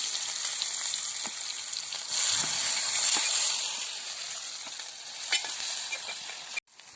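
Onions sautéing in hot oil for a crab roast, with a steady loud sizzle and hiss and occasional scraping stirs, close up and continuous until it cuts off near the end.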